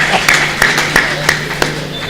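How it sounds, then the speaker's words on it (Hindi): Scattered clapping at a Hindi poetry gathering in Peeragarhi, a thin spread of hands beneath several sharp, distinct claps spaced a few tenths of a second apart, with no one speaking. "एक बार तालियां बजा दीजिए।"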